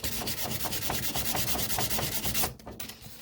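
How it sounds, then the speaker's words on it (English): Sandpaper rubs back and forth along the sharp edge of a 1966 GMC headlight bezel, a close, rhythmic rasp of quick even strokes that stops near the end. "You just want to sand it till it feathers out."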